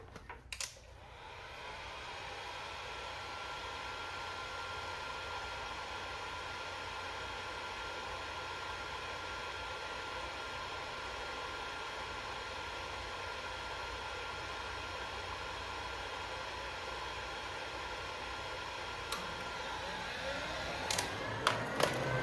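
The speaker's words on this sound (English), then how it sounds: "So I'm gonna turn the heat gun on, heat this up" A heat gun blows steadily on a 1968 Camaro radiator during an LS swap electric fan installation, a smooth continuous rushing hum that starts after a click and holds level, with faint clicks near the end.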